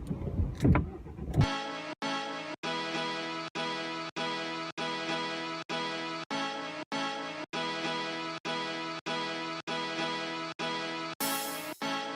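A car driving along the road, heard as a steady droning hum with faint regular pulses, after a brief rustling noise at the start.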